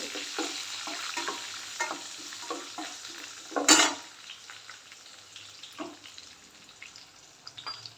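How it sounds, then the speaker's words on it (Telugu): Close-up sizzle of tomato chutney tempering with garlic frying in hot oil, with a spoon stirring and scraping the pan in short, irregular strokes. "ఇది దోరగా వేగాలి"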